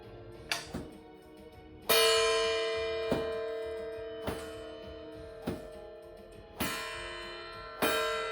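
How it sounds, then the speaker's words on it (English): A 6-foot bullwhip strikes an 8-inch gong again and again at uneven intervals, each crack setting off a bright metallic clang that rings and decays slowly. No one speaks. "So we're going to throw at this"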